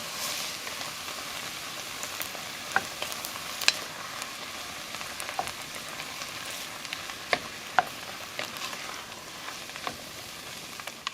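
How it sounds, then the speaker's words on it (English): Tomatoes and onions in a pot give a steady soft sizzle and frying hiss, quiet and even, with faint occasional clicks of stirring and no voices. "I'm gonna go ahead and add our tomatoes"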